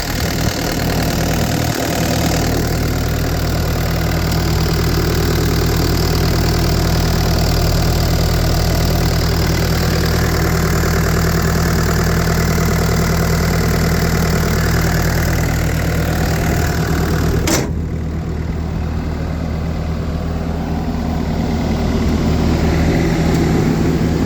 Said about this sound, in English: T870 Bobcat, a Kubota diesel engine.